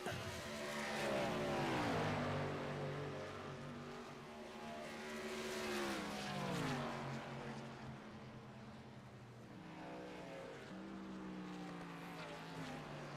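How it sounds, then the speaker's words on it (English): A race truck engine in a racing video game drones and shifts pitch, rising and falling with uneven revs as it sputters, heard alongside race traffic. "I guess something's up with the motor. It's spurting."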